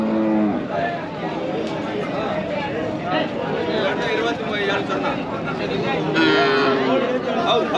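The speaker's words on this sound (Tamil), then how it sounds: "நல்லா தரமாக ஒரு காளைக்கன்று" Native cattle at a busy village livestock market, with a bull calf and other animals mooing in several drawn-out calls over constant crowd chatter and a seller talking nearby.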